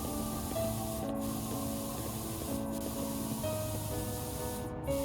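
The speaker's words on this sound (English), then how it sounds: "As I get high off the spray paint fumes." A spray paint can hisses in a continuous, close spray with a faint underlying hum and a few brief breaks in the stream.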